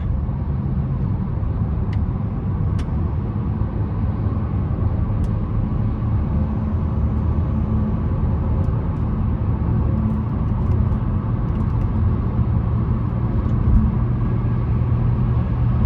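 Cabin view of a 2025 Buick Encore GX 1.2T accelerating, with a steady loud low engine and road rumble throughout and no sharp events.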